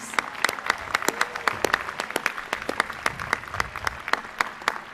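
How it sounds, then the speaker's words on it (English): Steady applause from a crowd at a community college commencement ceremony, many hands clapping at once with sharp individual claps standing out, loud and sustained throughout. "Please give another round of applause to our commencement speakers."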